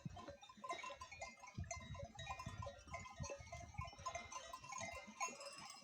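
Sheep bleating repeatedly over a busy, rustling farmyard background, several animals calling at once at moderate distance.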